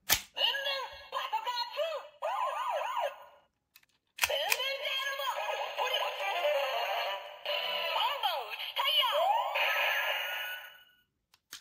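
Electronic toy sound effects from a Boonboomger Boonboom Changer transformation toy blare out: warbling siren-like tones, chirpy synthesized voices and jingles, loud and close, starting and stopping in several bursts.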